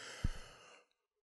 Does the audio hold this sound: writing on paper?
no